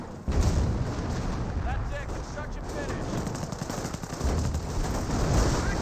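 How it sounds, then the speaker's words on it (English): A 25-pounder artillery barrage in Company of Heroes, a dense, continuous rumble of distant shell bursts and booms with scattered gunfire underneath, mixed with a voice talking over the battle. "Got 25-pounder barrages over here."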